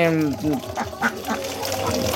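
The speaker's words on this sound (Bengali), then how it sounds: "এই কয়েকদিন যে ভিডিওগুলো দিলাম সেটা ওই হাঁসগুলো ছিল, আর এটা এই হাঁসগুলো" Several ducks kept apart in a dark indoor pen quack in a close, overlapping burst of nasal calls, busiest at the start and then settling into scattered calls.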